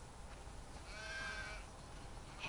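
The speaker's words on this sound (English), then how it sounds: "We definitely have way too many sheep." A single drawn-out sheep bleat from the video game The Last of Us rises over a soft ambient game background, fairly clear and mid-distance.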